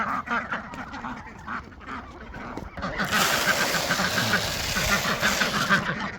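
Farmyard ducks quacking as they waddle around a coop, a close chorus of honking quacks that grows busier and louder in the second half, with faint background voice and activity.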